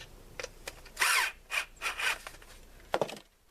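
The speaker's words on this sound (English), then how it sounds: "Just as tight as that drill will take it." A power drill tightening a clamp during crawl space waterproofing work, a few short quiet whirring bursts with a longer burst near the middle, each separated by pauses, heard alone at close range.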